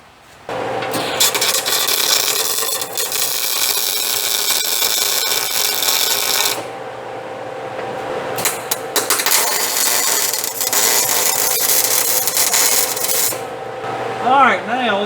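Welding on car suspension parts for a rear gear and brake job, heard as continuous loud crackling bursts of several seconds each, broken by short pauses.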